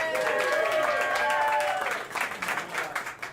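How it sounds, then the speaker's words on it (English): Audience clapping at a Great Lakes Brewing Company Christmas Ale first-pour event in Cleveland, a dense burst of applause that thins and tapers off toward the end, with a voice coming through over the crowd. "Let's give it another round of applause if we can."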